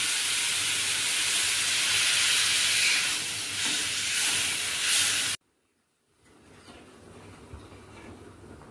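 Water poured into a pan of fried spices for a rohu fish curry sets off a loud, steady hiss and sizzle for several seconds, then cuts abruptly to a quieter, faint bubbling.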